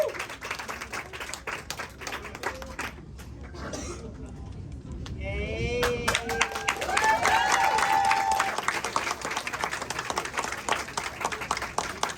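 An audience applauds after a choral speaking performance, dense clapping running throughout, with voices and cheering rising in the middle and a presenter speaking over it.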